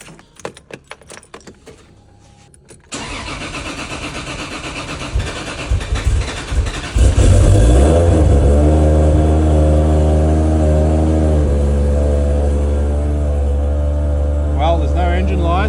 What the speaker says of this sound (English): What I'll do next is hook up the battery and then start the bitch.